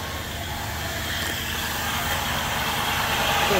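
A car engine idles steadily after an oil change, a continuous close rumble with broadband mechanical noise that holds level and swells slightly toward the end, with no talking.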